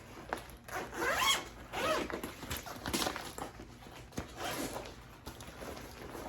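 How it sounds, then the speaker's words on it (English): YKK lockable zippers on a Tortuga Outbreaker travel backpack being pulled open and closed in several quick rasping strokes, close up and moderately loud with no talking over them. "These are actually YKK lockable zippers."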